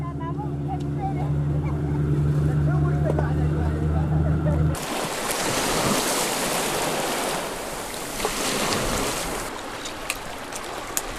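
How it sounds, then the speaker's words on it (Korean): Sea waves break against coastal rocks on a cold winter day with a biting wind. A steady engine-like hum comes first, then a loud, roaring, broadband wash of surf and wind takes over. "칼바람이 파도를 깨뜨리는 추운 날에도"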